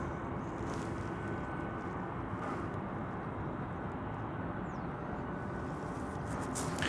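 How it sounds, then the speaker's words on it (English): A Boeing 737 MAX 8 airliner holds at the end of runway 18 Left at DFW Airport, its engines giving off a steady, broad roar. The sound stays continuous and fairly distant from start to finish. "that MAX 8 is still sitting at the top of the runway on runway 18 left"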